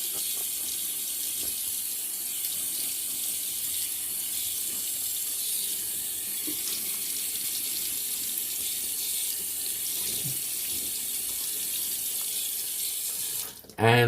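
Tap water runs steadily into a bathroom sink while a face is re-wetted for shaving, a constant close hiss with no talk, ending in a short clatter.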